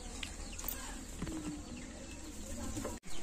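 Saharanpuri, Lal Jiriya and Kala Sabuj pigeons for sale in Canning, West Bengal, cooing softly in low repeated murmurs over a steady ambient hum, with a brief dropout near the end.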